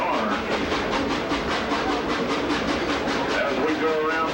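A steam train runs along a curving track at an amusement park, its carriages rattling with a steady, rapid clickety-clack and broad hiss, close and continuous, with a voice faintly underneath.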